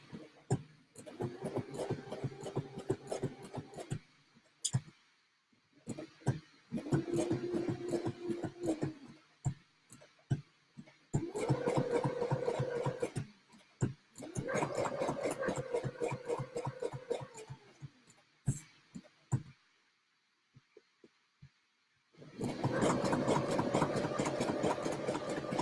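A sewing machine stitches with black thread around the edge of a junk journal in several bursts of fast, rhythmic mechanical chatter separated by brief pauses and handling clicks, ending in a longer run.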